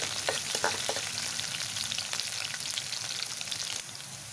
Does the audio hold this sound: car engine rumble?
no